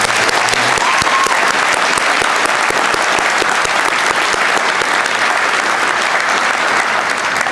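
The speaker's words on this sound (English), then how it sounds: "start off with an applause right there" Loud, sustained applause from a lecture audience honoring a longtime university community member, dense rapid clapping close and even throughout the whole stretch.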